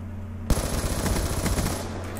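Rapid automatic gunfire fired through a wall in Black Ops 2 multiplayer, a sudden loud burst of fast repeated shots starting abruptly and running steadily for over a second before cutting off, with no talk.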